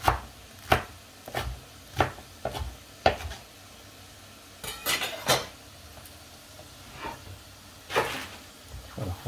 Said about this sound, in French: on va donc découper la salade assez grossièrement